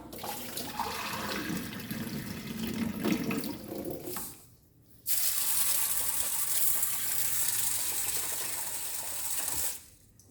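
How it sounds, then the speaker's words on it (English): Water used for washing moong beans splashes and pours out of a bowl with a gurgling rush, a short pause, then a steadier hissing stream of draining water continuing until the end. "So I will now again throw this water out."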